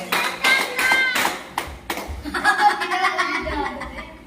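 Several quick hand claps ring out in the first two seconds, then give way to chatter and laughter from people nearby.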